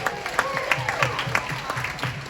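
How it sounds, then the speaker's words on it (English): An audience on a Carnival Liberty cruise ship claps for newlyweds at a love and marriage show, a moderate patter of hands with a few louder claps and a voice carrying over it. "Give them a nice round of applause, our newlyweds"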